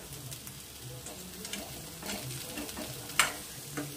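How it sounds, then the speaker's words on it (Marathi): Boiled chickpeas are stirred and sautéed in a pan for a village-style usal, making a quiet, continuous sizzle with soft scraping and an occasional light tap of the spoon. "आता यामध्ये आपण चणे ॲड करू। आता याला छान असं मिक्स करून घ्यायचं।"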